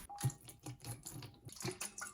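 Water sloshes inside a lidded stainless steel mixing bowl, making quiet irregular splashing bursts and faint metallic knocks as the bowl is shaken.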